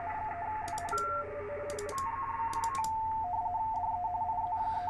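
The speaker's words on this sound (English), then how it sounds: "Oh, that's not Morse code, that's digital." A digital radio signal comes through a Yaesu FT-891 transceiver as steady warbling tones hopping between pitches over a constant hiss, broken by short bursts of rapid ticking, close and clear with no speech.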